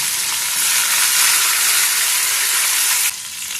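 Tomatoes and green chillies sizzle loudly in hot oil with cumin, a dense, steady close-up frying hiss that runs unbroken, easing slightly near the end, with no talking.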